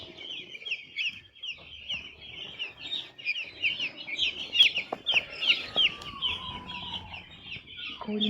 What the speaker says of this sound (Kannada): ಕೋಳಿ ಮರಿಗಳು.